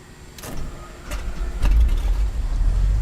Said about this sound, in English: let's go and start engine on the left side